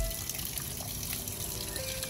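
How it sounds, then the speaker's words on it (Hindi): Drinking water runs into a bottle as a soft, continuous trickle and pour, fairly quiet against a steady background hum. "अच्छा मैं बोतल भर लूंगा,"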